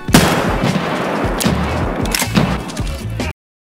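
Pump shotgun firing in the video game Escape from Tarkov, several loud, close booming shots in quick succession with cycling clatter between them, cutting off abruptly.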